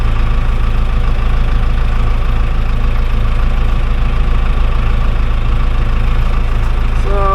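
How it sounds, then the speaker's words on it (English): An older bulldozer's diesel engine idles slowly and slightly low, with a hydrostatic pump speed sensor fault. It makes a loud, steady, close rumble with an even low throb that runs the whole time, with no talk. "So I guess we're idling a little slow."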